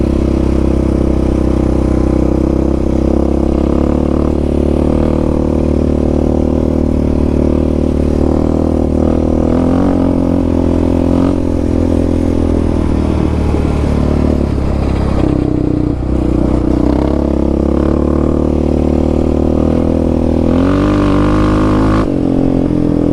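A Yamaha Raptor 700 ATV fitted with a Dasa exhaust pipe and EHS tune drones steadily while riding, its loud, close engine note holding a low rumble with small shifts in throttle throughout and no talking.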